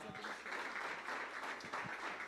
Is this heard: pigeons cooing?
no